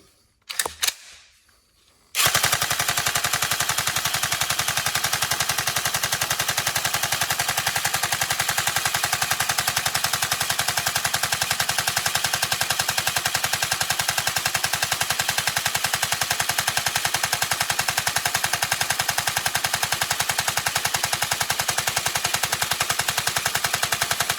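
A Tokyo Marui MK46 NGRS airsoft electric gun with upgrades fires a few short test bursts, then one sustained, loud, rapid full-auto stream that runs unbroken for over twenty seconds, close to the listener.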